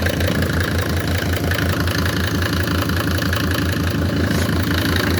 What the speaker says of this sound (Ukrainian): Мотор класний, рівненько робить.